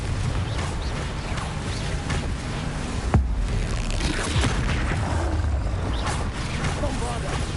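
A Confringo fire spell explodes in Hogwarts Legacy: one sharp, heavy blast strikes about midway, standing out from a dense, continuous wash of game ambience and effects.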